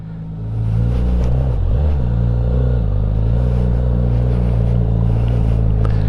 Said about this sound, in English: you push this start button once and it will just keep firing until it fires up